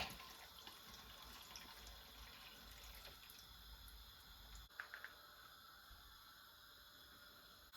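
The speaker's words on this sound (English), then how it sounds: "fill up exactly the same thing but with water and pour it in there" Water poured from a container into a candle vessel in a quiet room, a steady soft trickle running throughout with a few small splashes near the end.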